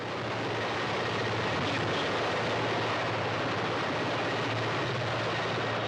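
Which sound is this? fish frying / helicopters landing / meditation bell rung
helicopters landing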